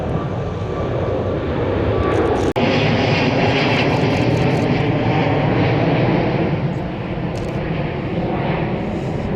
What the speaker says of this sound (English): this next aircraft is a Virgin Atlantic going to New York